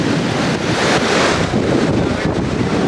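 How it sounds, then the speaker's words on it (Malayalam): Rough sea waves pound the shore where sea meets backwater during the rainy season, a loud continuous roar of surf mixed with strong wind buffeting the microphone. "കടൽ കണ്ടില്ലേ ആ ഒരു ഏരിയയിൽ ശക്തിയായിട്ടാണ് അടിച്ചുകൊണ്ടിരിക്കുന്നത്"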